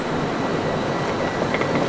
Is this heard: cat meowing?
no